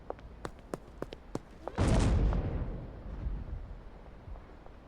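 Explosion in the video game Schedule 1: a sudden loud roaring blast after a few faint clicks, decaying into a long rumbling tail.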